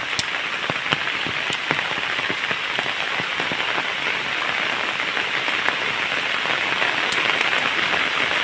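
Heavy rain pours steadily, a dense, even hiss of drops with occasional sharper splashes close by.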